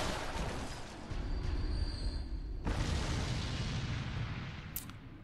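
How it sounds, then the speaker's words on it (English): A thrown flaming oil pot bursts in Bloodborne, a deep booming explosion that rumbles on, followed by a second heavy blast partway through, with no voices. "And it exploded."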